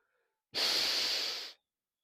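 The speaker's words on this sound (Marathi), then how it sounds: "श्वास सोडून द्यायचा, पुन्हा श्वास घ्यायचा." A single steady breath pushed out through the nose or mouth for about a second during a neck exercise, close and clear in an otherwise quiet room.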